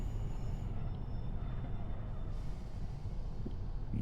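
A train passes near Manchester with a steady rumbling roar of wheels and carriages, broadband and continuous throughout, with no talk over it.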